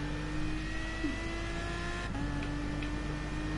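A race car engine in the game GT Sport hums at a steady high pitch during a Nations Cup race, holding speed with a brief drop and recovery as it shifts, fairly quiet and without voices.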